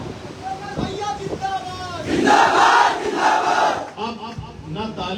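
Large crowd at an outdoor public meeting in Phulpur, Prayagraj, raising a loud surge of shouted chanting in the middle, framed by a voice speaking over a public address system before and after.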